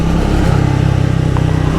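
Triumph Speed 400 motorcycle engine with a steady low burble at idle or on the overrun, close and continuous for about two seconds, no talk.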